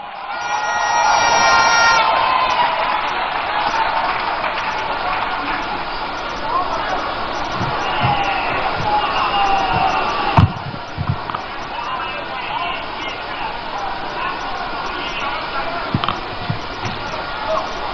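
A large rally crowd at a party manifesto launch cheers and applauds as a speaker is welcomed, a broad, steady roar of cheering and clapping, loud early, then sustained with scattered whoops and thumps.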